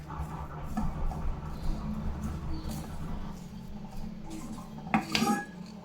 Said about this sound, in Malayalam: നല്ലോണം ഇളക്കി മിക്സ് ചെയ്തെടുക്കാം